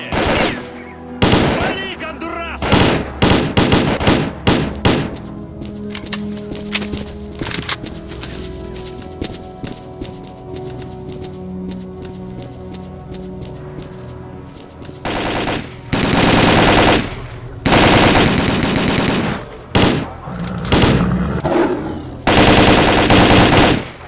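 Sustained automatic gunfire in the video game S.T.A.L.K.E.R. Call of Pripyat, loud and dense bursts of rapid shots with brief lulls, heavy volleys returning in the second half.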